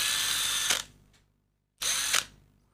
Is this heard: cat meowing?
no